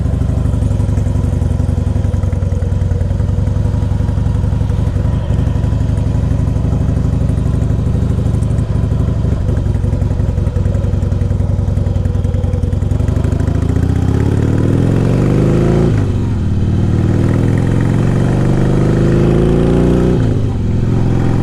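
A 2002 Harley-Davidson Heritage Softail fuel-injected V-twin with 32,000 miles idles close by with a loud, steady, lumpy rumble, then is blipped twice with rising, falling revs toward the end.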